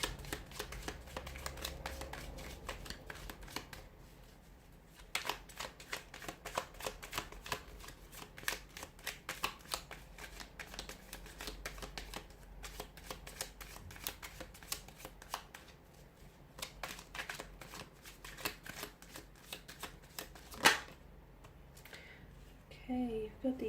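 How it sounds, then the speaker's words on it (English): A deck of tarot cards is shuffled over and over, giving rapid, crisp riffles and soft slaps at close range with short pauses between bursts. "give the cards a shuffle and see what messages are coming in for you here this week"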